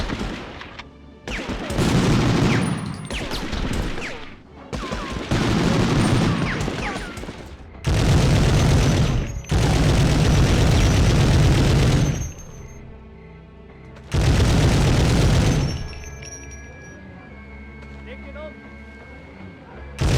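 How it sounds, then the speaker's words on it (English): Bursts of heavy automatic machine gun fire and booming cannon shots from the first Medal of Honor game, loud and dense, separated by brief pauses with rumbling in between. "It's so incredibly satisfying to fire the machine gun or the cannon in this game"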